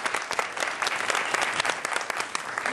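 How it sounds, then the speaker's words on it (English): Audience applause at an AVON seminar forum: a steady crowd of hands clapping throughout, moderately loud, with no talking over it. "Let's give them a hand."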